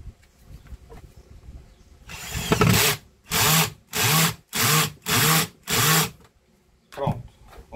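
Power screwdriver set to low torque tightening a screw on a vacuum cleaner, a long whirring burst followed by five short evenly spaced buzzing pulses, close and loud, with soft handling noise around them.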